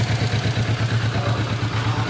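A Kawasaki Vulcan S 2025 motorcycle idles with its radiator cooling fan spinning, a steady low engine hum and whirring fan noise running continuously at close range.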